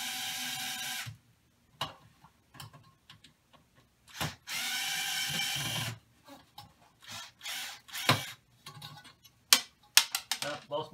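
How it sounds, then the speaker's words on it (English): Prying a stripped screw out of an Arcade1Up arcade cabinet panel with a power tool, which gives two long whirring bursts separated by short clicks and scrapes at close range. "Both my screws are stripped and I got to pull on it to get it out"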